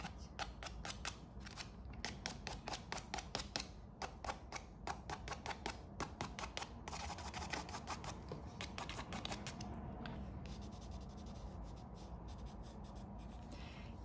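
Coloured pencil, grey among the shades, scratches across paper in quick, rhythmic strokes for a landscape drawing of a house in a field among mountains, close and crisp, with brief pauses between bursts of hatching.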